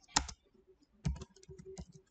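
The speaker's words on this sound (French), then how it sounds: "Je clique encore sur Tab." A computer keyboard's Tab key pressed: a sharp close click, then a few softer clicks and key taps about a second later, in a quiet room.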